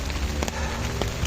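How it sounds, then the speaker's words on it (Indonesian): Rain falling steadily at a campsite, a dense wash of patter with a few sharper drops striking nearby surfaces, no talking. "Saya istirahat dulu sebentar, hujan. Jaket udah basah."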